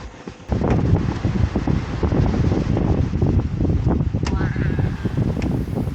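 Strong wind on a sandy spot in Camarines Norte buffets the microphone with a constant, heavy rumbling roar, gusting steadily throughout with a couple of faint higher tones near the end.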